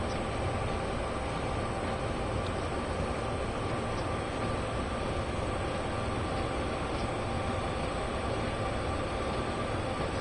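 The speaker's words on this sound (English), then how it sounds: "Let's see how this train will stop on time now if we put the dynamic brake on notch 8." A freight train in Train Sim World 2 slowing under dynamic braking on the Sherman Hill line, a steady heavy rumble with a constant whine over it, unbroken throughout and with no talking.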